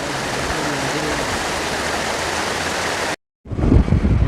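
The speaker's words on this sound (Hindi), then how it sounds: "अगर अब कितना ज़बरदस्त किस्म का नहर है, पानी चल रहा है" Water rushing steadily along a full canal near Sohar, Oman, a loud continuous broadband roar that cuts out abruptly for a moment and then resumes with heavier low-end rumble.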